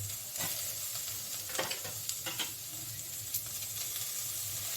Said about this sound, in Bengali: প্রথমে আমি আলুটা দিলাম আবার এটাকে ভাজবো